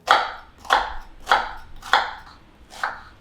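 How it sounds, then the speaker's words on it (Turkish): Five evenly spaced knife chops through an onion onto a cutting board, crisp and close, with no voices. "Hemencecik soğanı doğrayarak başlayalım."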